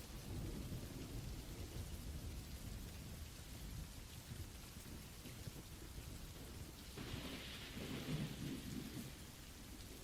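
Rain and a thunderstorm outside a cabin in the woods: a constant wash of falling rain with low rolling thunder rumbling underneath, swelling again near the end, with no voices.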